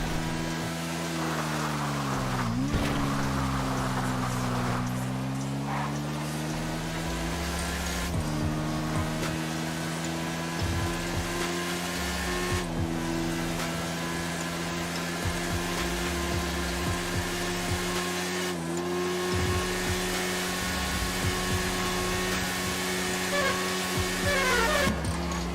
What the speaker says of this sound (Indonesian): Kencang juga nih motor.